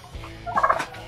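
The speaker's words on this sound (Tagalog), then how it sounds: "Pabo! Pikak." A turkey on a residential farm lot gobbles once, a short loud rattling burst close to the microphone after a brief quiet moment, with no talk over it.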